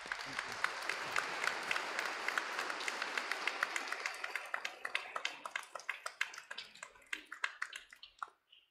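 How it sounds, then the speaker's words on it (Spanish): A church congregation at a Spanish-language Sunday Mass gives a round of applause: a dense crowd of clapping that starts full and loud, then thins over several seconds into scattered individual claps before dying out. "Let's give him a big round of applause."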